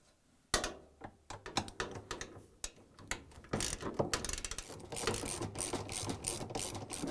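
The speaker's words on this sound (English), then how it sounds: "I'm using a 13 millimeter socket wrench." A 13 mm socket wrench ratchets in quick bursts of close, sharp clicks while a counterweight is unbolted from a Samsung washing machine. The clicking turns more continuous and dense toward the end.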